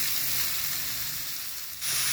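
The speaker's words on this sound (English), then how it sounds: "get this beef cooking." Beef sizzles and fries steadily in a pan, meant for black bean and beef burritos, a dense close hiss that eases slightly, then swells again as the meat is stirred.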